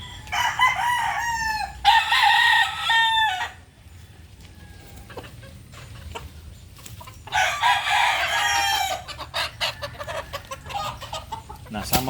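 Roosters crow loudly in long drawn-out calls, two distinct bouts with quieter clucking and chicken chatter in between, from native-line chickens.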